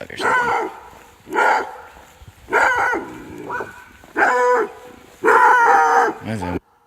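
A hound dog on a road bays in five long, loud, drawn-out howling barks at a steady rhythm, close by with no talk over them.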